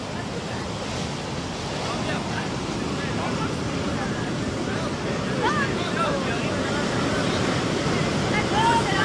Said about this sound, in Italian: guardate le onde là